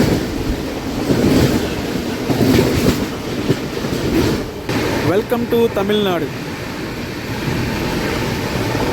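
An Intercity Express train rolls along the rails with a steady rumble and rattle heard from inside the carriage, while someone talks over the noise.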